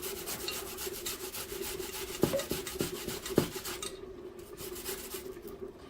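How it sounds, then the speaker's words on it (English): A small onion being grated for a cabbage-roll filling, a soft, steady rasping rub with a few sharper scrapes near the middle, quiet and close, then tapering off toward the end. "I'm just grating up 1 small onion"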